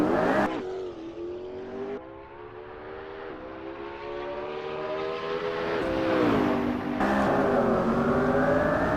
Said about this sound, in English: no traction control, full throttle in a 900 horsepower car